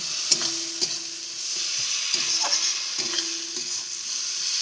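Chicken being sautéed in a tomato sauce masala made with ginger, garlic and onion paste, with steady close frying sizzle and repeated scraping stirs of a spoon against the pan, no voices.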